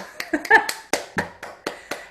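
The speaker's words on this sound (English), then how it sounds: "give a round of applause to all of our performers" Scattered applause for piano recital performers in a virtual online recital, heard as a handful of separate claps and taps from one or a few people, close and uneven, about ten distinct hits with gaps between them.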